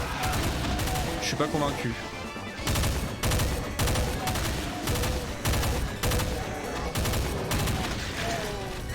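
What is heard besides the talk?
burst rifle gunfire in the video game Doom II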